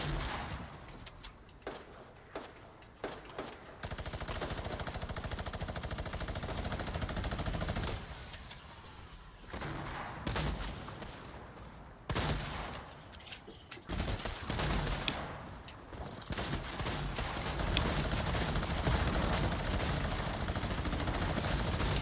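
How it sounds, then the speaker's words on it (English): Sustained gunfire in Fortnite, rapid bursts of shots and minigun-style fire in long stretches with short pauses between, fairly faint overall with no talk. "Oh, I'm being shot at."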